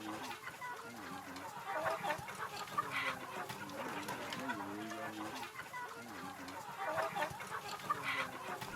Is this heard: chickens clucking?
yes